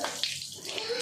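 Bath water poured over a child, a brief steady splashing pour lasting about a second, close by, with a faint voice behind it.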